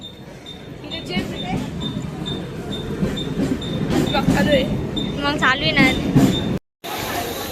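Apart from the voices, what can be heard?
local commuter train running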